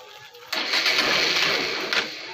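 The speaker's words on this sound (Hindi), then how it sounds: "बाइक को हम स्टार्ट करते हैं" A carburetted Hero Xtreme 200R BS4 ABS motorcycle, being tuned for mileage and prone to stalling, starts after a quiet moment and runs loudly and steadily up close, easing slightly near the end.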